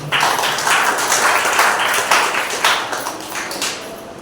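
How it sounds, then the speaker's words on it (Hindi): A church congregation at a Sunday service bursts into loud, vigorous applause, a dense wash of many hands clapping close by with brief surges, holding strong throughout the few seconds without speech. "एक बार उस सच्चे और पवित्र परमेश्वर के जोरदार तालियां हो जाए।"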